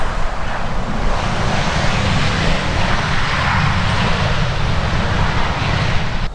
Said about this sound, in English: you could see then there was a Virgin flight taking off